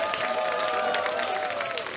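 An audience applauds the singer with steady, moderately distant clapping and light cheering that holds evenly throughout.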